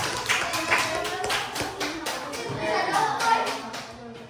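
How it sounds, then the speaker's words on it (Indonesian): A fifth-grade elementary school class claps hands together in a classroom, a brief burst of quick, uneven claps from many children, close and moderately loud, with faint voices mixed in. "Tepuk tangan."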